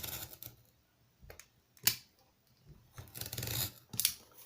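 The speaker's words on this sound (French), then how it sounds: "Ce bruit là, c'est quand on coupe la trame en tissu." A blade cuts through the fabric layers of reinforced rubber while making streetluge brake shoes, giving several separate, close rasping snips with quiet pauses between them and no talk.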